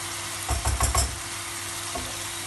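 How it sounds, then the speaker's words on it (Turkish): Bulgur pilaf vegetables sautéing in a pan, a few soft sizzling bursts and stirring scrapes in the first second over a steady low hum, then quieter. "Arkadaşlar malzeme kavruldu."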